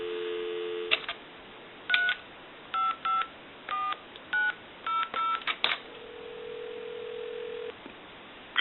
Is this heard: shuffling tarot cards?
no